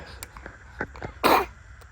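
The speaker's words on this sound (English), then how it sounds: "You got a cough?" A single sharp cough near the end, preceded by a few faint throaty sounds and small clicks in a quiet greenhouse.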